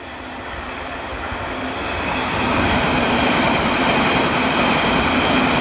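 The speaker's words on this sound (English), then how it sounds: "It's one of our underground trains." A London Underground train roars past nearby, its rumble and rail noise swelling louder midway and holding steady, with no talking.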